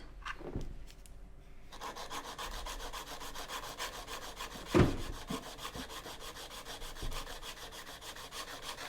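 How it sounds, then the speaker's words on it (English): A hand file rasps along the side of an acrylic nail in quick, steady back-and-forth strokes, close and fairly faint, with one sharper knock midway. "Then filing the side."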